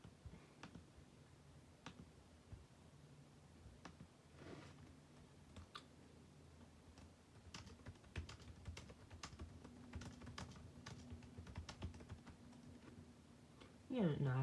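Quiet, rapid clicking of keys on a school Chromebook, typed in irregular bursts nearby at low volume, ending in a louder clatter at the very end.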